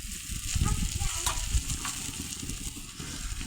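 Brinjal vegetable sautéing in a pan, a continuous near sizzle with rough stirring scrapes and a few sharper clicks, no talk.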